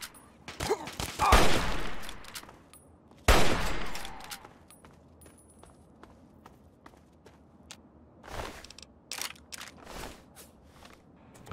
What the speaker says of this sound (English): I think somebody else was shooting at me again.